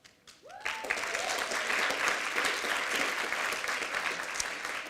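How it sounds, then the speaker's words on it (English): Sustained, loud audience applause at a summit event, many hands clapping steadily and densely after a brief quiet start, continuing without any talk over it. "You should have more."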